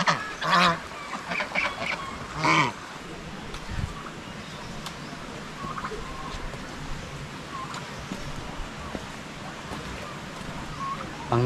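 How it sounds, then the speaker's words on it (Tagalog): A flock of farm geese honks in loud, close bursts near the start, then quieter calls and background noise continue, with people talking at times. "Marami na po tayong gansa."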